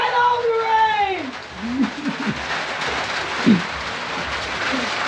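A steady hiss of falling rain on Church Avenue in Brooklyn, New York, fills the background while people talk and call out over it.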